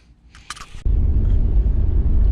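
A 1991 Camaro Z28 starting to drive off: after a few brief rattles and clicks, a loud, close low engine rumble sets in and holds steady.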